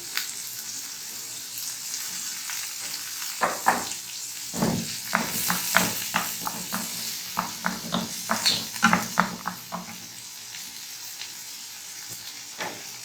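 Chopped tomatoes dropped into a vegetable pancake mixture in a hot pan, a soft background sizzle broken by a cluster of sharp clatters and scrapes of stirring, close and moderate in level, no speech.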